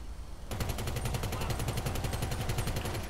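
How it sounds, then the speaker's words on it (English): A minigun mounted on the Weaponised Tampa in GTA 5 opens fire after a brief pause, unleashing a loud, rapid, unbroken stream of gunfire that runs to the end. "But here's his minigun, as you can see."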